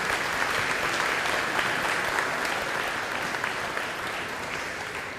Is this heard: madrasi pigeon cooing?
no